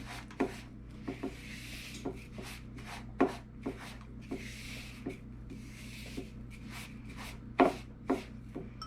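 Graham cracker crust mixture is stirred and pressed in a bowl, a series of soft scraping, rubbing knocks at an uneven rhythm, close and fairly quiet, with no talking.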